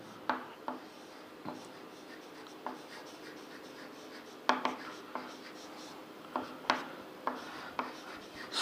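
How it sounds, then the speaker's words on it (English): Pen or chalk writing on a board during a lecture, soft scratchy strokes and occasional taps in short, irregular bursts, close and fairly faint. "I write it here."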